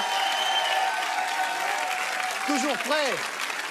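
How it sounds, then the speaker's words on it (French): Studio audience applauding guests Antoine Duléry, Jean-Luc Reichmann and Matt Pokora on a French TV quiz show, a steady wash of clapping throughout with a voice speaking over it near the end. "Merci d'applaudir Antoine Duléry, Jean-Luc Reichmann et Matt Pokora"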